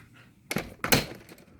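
A door is pushed shut in a damp house, giving two close wooden thunks about a half second apart, the second louder, with light handling noise after.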